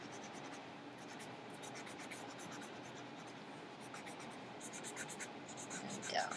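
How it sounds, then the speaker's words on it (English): A Sharpie marker draws slowly on paper, giving soft, faint scratching strokes close by over a steady hiss, with quick squeaky strokes toward the end. "when you're using the Sharpie marker, you want to take your time"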